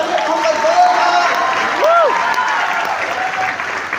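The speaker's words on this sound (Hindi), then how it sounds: "मिस्टर झरने साहू सर के लिए जोरदार तालियां होंगे, जोरदार" Enthusiastic audience applause at a business success-story event in Raipur, a steady, loud wash of many hands clapping, with a few voices and a short whistle-like tone rising through it.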